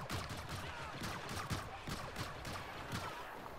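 A light machine gun fires in the Star Wars Battlefront video game, with rapid repeated shots in a steady stream of bursts, fairly faint and continuous throughout.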